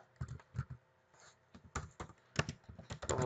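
Someone types code in bursts on a computer keyboard, a quick clatter of close, crisp keystrokes with short pauses between groups.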